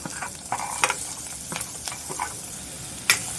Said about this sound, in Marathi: कांदा पण आपण चांगला असा गुलाबी रंगावरती भाजून घ्यायचा आहे